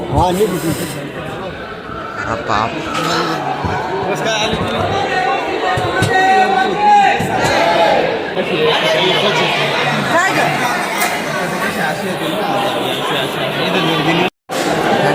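A large crowd of devotees at Trimbakeshwar Jyotirling temple fills the space with steady, loud chatter and overlapping voices, a continuous murmur of many people close by with a brief cut near the end.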